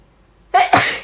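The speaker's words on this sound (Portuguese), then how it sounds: "Peraí que eu preciso espirrar." A single person sneezes close up: a short inhaled catch followed by a sharp, loud burst that quickly fades.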